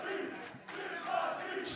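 A wrestling crowd at an AIW independent show cheers loudly and continuously, a dense roar of many voices with shouts swelling and dipping, no commentary audible.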